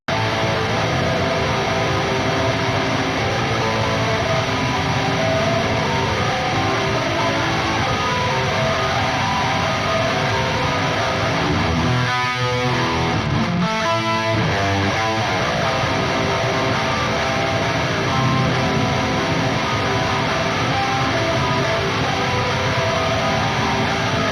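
Dense, saturated electric guitar distortion from a Neural DSP Soldano SLO 100 roars steadily and loudly throughout, with a brief stuttering, choppy passage midway.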